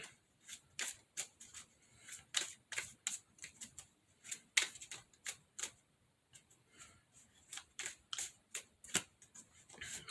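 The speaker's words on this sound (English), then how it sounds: "Next card out." Tarot cards are shuffled and drawn from a deck during a reading, a quiet, close series of sharp papery flicks and snaps in an irregular rhythm, with no talking.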